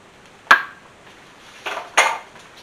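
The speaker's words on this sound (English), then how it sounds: "Got me a scraper here, so I can just get all that batter" A scraper drags cheesecake-stuffed pumpkin bread batter out of a metal pan in a few sharp close scrapes and clinks, with short pauses between strokes.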